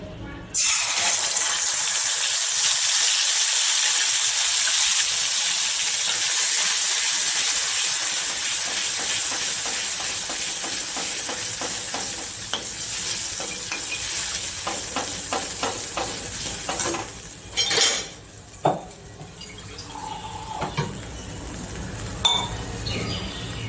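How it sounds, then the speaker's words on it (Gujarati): Yogurt mixed with masala hits hot oil in a pan for Kathiyawadi-style okra curry, giving a loud, steady hiss and sizzle with occasional spoon clinks against the pan as it is stirred, fading slightly near the end. "હવે એ જ તેલમાં આપણે આ જે દહીંમાં મસાલો નાખી લીધો છે એ નાખીશું"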